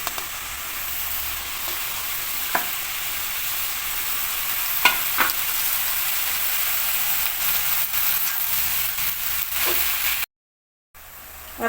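Washed, chopped bottle gourd greens frying in a hot pan, a steady loud sizzle with occasional stirring scrapes and clicks, cutting out briefly near the end.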